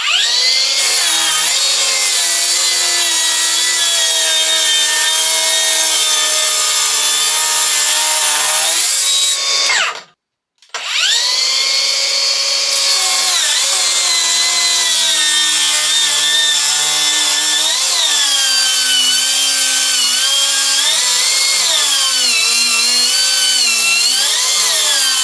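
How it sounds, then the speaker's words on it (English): A Milwaukee track saw rips through 3/4 inch hickory with a loud, close, high-pitched motor whine and cutting roar, briefly cutting out and restarting about midway, then running steadily with slight pitch shifts under load. "I was actually really impressed with how little the saw bogged down in 3/4 inch material and just went right through it"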